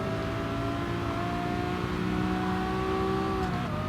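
Ferrari race car engine in Gran Turismo Sport, a steady droning whine with sustained tonal harmonics, held loud and continuous through the clip with slight pitch shifts as it revs among other cars.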